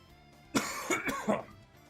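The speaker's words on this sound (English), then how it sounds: "So, I'm going to cough." A few rough, throaty coughs from someone recovering from illness with congestion, in quick succession, close and fairly loud, following a quiet pause with no talking.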